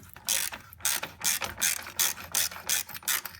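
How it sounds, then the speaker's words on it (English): Ratchet with a 12 mm socket on an extension loosening a bolt during a battery replacement on a 2011–2017 Hyundai Elantra, about eight quick, sharp clicking strokes in a regular rhythm, close and clear with no talk. "12 millimeter on extension, and then we're just going to loosen up that bolt down there."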